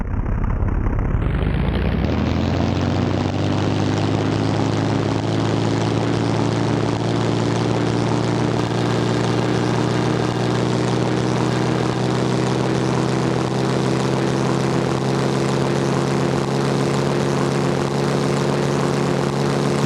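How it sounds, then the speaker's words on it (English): A He 72 biplane's engine and propeller in a flight game build from a quick spool-up into a loud, sustained, even drone through the takeoff roll, with no voices over it. "Lead to flight. I'm starting my takeoff roll."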